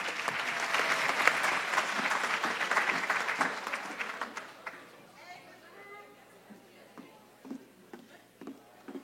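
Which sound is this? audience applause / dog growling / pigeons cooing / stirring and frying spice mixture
audience applause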